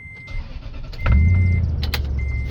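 A 2005 Toyota Tundra Limited 4x4 with over 300,000 miles cranks and fires up, the starter whine giving way to a steady low engine idle, close and loud with no talking.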